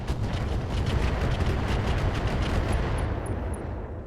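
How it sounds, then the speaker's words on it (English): Eye rockets and SRM-6 missiles firing in the mech combat game RogueTech, a dense rolling barrage of blasts and thuds that runs continuously at high volume, with a few sharp high pings near the end. "Light him up with the eye rockets and the SRM-6."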